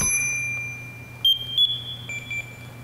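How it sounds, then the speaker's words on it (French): Firefighter's breathing apparatus chiming as it opens: a few short, bright electronic tones ring out over a steady low hum, close and fairly clear. "je vais ouvrir l'appareil, fais pas le saut, tu vas avoir plein de petites cloches"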